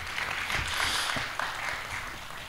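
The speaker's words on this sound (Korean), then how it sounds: "예, 큰 박수 부탁드리겠습니다." Applause rises from the audience at a disaster-safety research briefing session, a moderate wash of clapping hands with a few louder individual claps, fading slightly toward the end.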